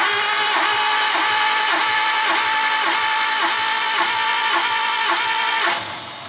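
A Nissan R32 engine cranks slowly on the starter during a compression test, giving a steady rhythmic churn of about three beats per second that runs loud for several seconds, then cuts off abruptly.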